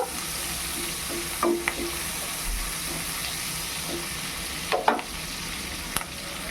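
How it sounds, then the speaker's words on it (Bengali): Prawns fry in a pan with a little salt, giving a steady close sizzle with a few stirring scrapes and clinks scattered throughout. "একটু এইগুলোকে ফ্রাই করে নেব।"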